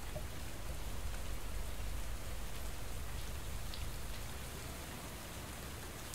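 Steady rain falling in the video game Wood & Weather, a dense even hiss of drops on surfaces that runs unbroken throughout, moderately loud with no voices.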